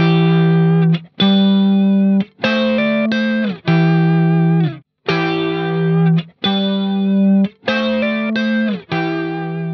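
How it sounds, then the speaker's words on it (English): Electric guitar with chorus effect playing a sequence of sustained, strummed chords with brief gaps between them, full and wide-sounding, loud and alone. "Even a little chorus can make the guitar sound way bigger."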